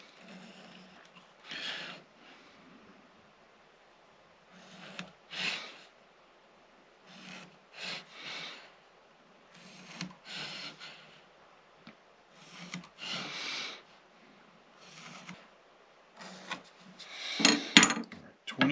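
A cigar box guitar neck is marked for frets, giving soft intermittent scratching and rubbing strokes on wood in short separate bursts, close and fairly quiet with pauses between.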